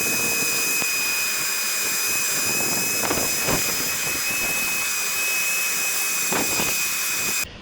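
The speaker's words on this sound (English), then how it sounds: "Okay, it's all vacuumed out." A vacuum cleaner runs loudly and steadily while sucking debris out of gaps in concrete stairs, with a high whine and occasional rattling pickups, cutting off at the end.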